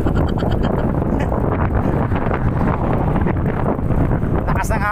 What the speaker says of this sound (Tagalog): Lakas ng hangin, mga kasadel.